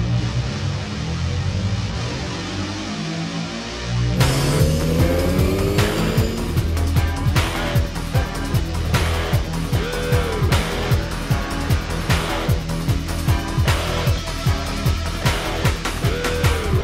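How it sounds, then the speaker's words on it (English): Race car engines at an auto race: after a quieter stretch, loud revving engines roar continuously with repeated pulsing passes and tire squeals, close and sustained. "start your engines."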